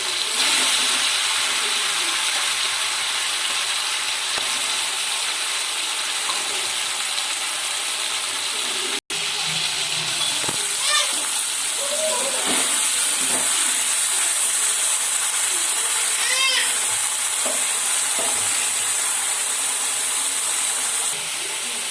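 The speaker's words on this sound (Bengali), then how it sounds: "হালকা করে আমি মাছগুলো একটু ভেজে নিয়ে তুলে নেব।" Prawns fry in hot mustard oil in a kadai, giving a steady, loud hissing sizzle that runs unbroken throughout, with a brief dropout partway and a few faint clinks.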